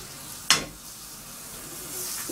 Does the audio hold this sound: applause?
no